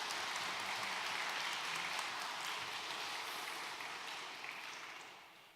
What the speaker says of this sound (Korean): 감사의 박수 한번 올려드렸으면 좋겠습니다